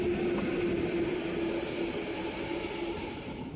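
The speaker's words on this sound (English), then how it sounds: "just watched some train pass" A train passes through a station platform in Poland at peak hour, a steady rolling rumble with a sustained tonal hum, moderately distant and fairly quiet, with no talk.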